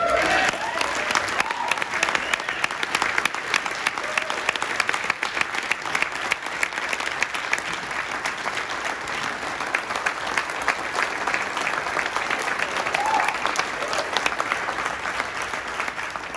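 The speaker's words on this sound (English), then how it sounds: "And I think he deserves another round of applause." A large Teamsters conference crowd gives sustained, loud, even applause that continues without pause for over sixteen seconds, with faint voices underneath.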